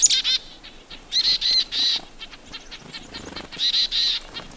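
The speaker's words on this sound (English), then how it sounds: "we've seen dozens of birds come into this area in what's known as a mobbing event" Dozens of birds mobbing a predator, with bursts of rapid wing flapping and sharp repeated calls coming in close, loud clusters separated by brief quieter gaps.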